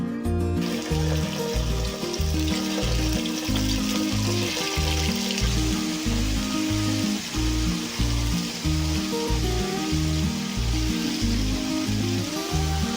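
Oil sizzling in a pan for a Chinese-style chicken stir fry: a continuous frying hiss runs throughout beneath a steady, looping rhythmic pattern of background music.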